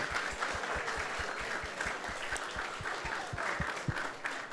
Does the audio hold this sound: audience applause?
yes